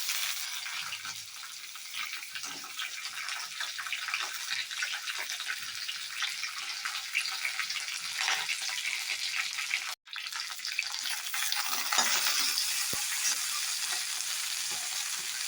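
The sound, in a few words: okra frying and being stirred in pan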